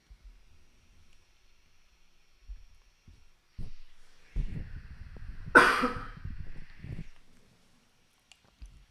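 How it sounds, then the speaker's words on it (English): A single sharp cough stands out amid quiet rustling and low thumps, with faint background noise around it. "I hate coughing in the middle of my show"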